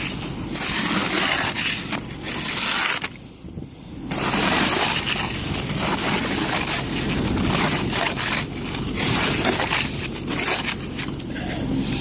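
Snow brush and scraper clearing snow and ice off a car outdoors, with continuous loud rough brushing and scraping strokes, a brief pause, then more scraping.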